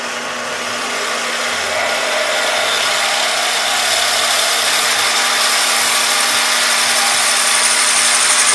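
A Harbor Freight machine bores a cast iron handwheel at about 600 RPM, giving a loud continuous cutting and motor whir that holds steady and slightly rises throughout, with no talk.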